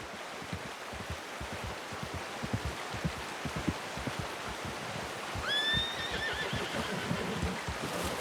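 Horse in the video game Red Dead Redemption 2 gives a clear whinny midway through, heard over soft rainfall and a steady patter of hooves or drops across the whole scene.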